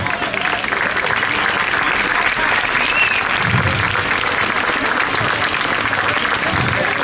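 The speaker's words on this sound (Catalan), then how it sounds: "Un fort aplaudiment per ells." Audience applause for a cobla band at a sardana dance during a town festival in Tarragona: steady, dense clapping from a crowd that holds for the whole stretch, moderately loud and close.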